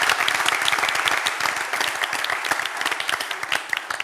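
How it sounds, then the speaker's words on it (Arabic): A studio audience on a Tunisian game show bursts into loud applause, dense clapping that stays strong and thins slightly toward the end, with no voices over it. "تصفوا عليهم تصفيق"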